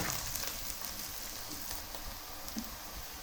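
Garlic fries in a pan until golden brown, giving a soft, steady crackling sizzle with scattered small pops and no voices.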